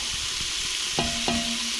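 Stew meat browning in a pot for chili, a steady broad sizzle with a couple of clanks from stirring.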